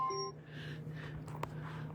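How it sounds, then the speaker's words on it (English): A phone or device alarm sets off a short electronic beep pattern with clear tonal pulses, then fades into room noise with a brief click. "That's my alarm to go walk."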